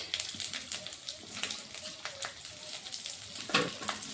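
Garlic cloves and onion, with cumin and chili, fry in a little oil, making a close crackling sizzle broken by small popping spits and stirring clicks, with no voices.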